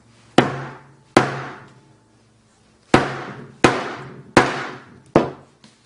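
Six sharp hammer blows strike a smartphone being smashed, arriving in two spaced groups of impacts, each a loud crack with a short ringing decay and quiet gaps between.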